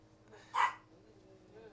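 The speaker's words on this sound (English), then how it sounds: "Yeah, and there my dog's barking." A dog barks in a short burst at home during a live stream, loud and near, with a second bark starting right at the end over a low steady background hum.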